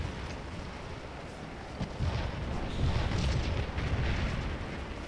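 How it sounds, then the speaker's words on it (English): Massed artillery from a Napoleonic-era battle in the Scourge of War strategy game, a dense, continuous rumble of cannon fire that swells in the second half rather than separating into distinct booms. "Look at that cannon fire, it's just slaughtering them"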